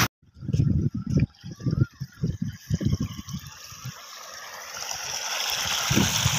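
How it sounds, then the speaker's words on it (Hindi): Rushing stream water at an outdoor Eid day outing, starting behind bursts of nearby chatter and then growing into a loud, steady gushing flow once the talk stops. "पानी आ रहा है पानी जा रहा है"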